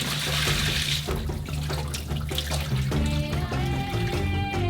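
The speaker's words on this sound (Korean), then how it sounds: "그런 다음 물을 버리고" Water poured out of a pot of boiled potato pieces into a sink, a steady loud rushing splash that runs throughout with music playing over it.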